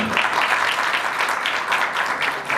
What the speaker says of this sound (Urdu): ایک بار ان لوگوں کے لیے تالیاں